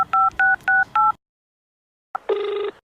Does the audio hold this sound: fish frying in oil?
no